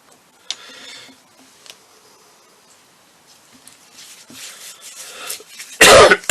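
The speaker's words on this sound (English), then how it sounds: "Excuse my cough." One sharp, loud cough bursts out near the end after several seconds of quiet, faint rustling and light clicking at a work surface while sugar flowers are being made.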